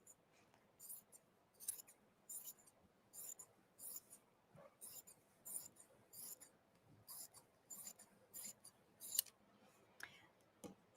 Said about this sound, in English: And we're going to cut open this fold.